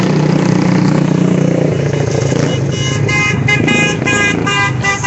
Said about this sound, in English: Somebody honking in solidarity